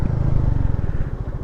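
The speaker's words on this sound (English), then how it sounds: "Now let's try rear brake." A Royal Enfield Meteor 350 cruiser motorcycle slows under rear braking with ABS engaged, its engine rumbling low and loud with a steady pulsing throb and a faint clatter, and no talk over it.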